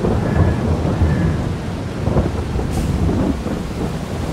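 Thunder and rain in the farming video game Farming Simulator 22, a steady loud downpour with low rolling thunder rumbling beneath it, no voices.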